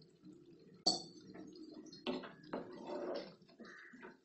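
Water is poured and splashes into a pan of paneer butter masala gravy thickened with gram flour, with a sharp clatter at the start, followed by bubbling, stirring and a few clinks of a utensil.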